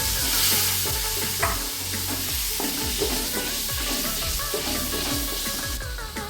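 A paste of tomato, ginger, garlic and onion fries in a pan with a loud continuous sizzle and repeated stirring strokes, and a low steady hum sits underneath.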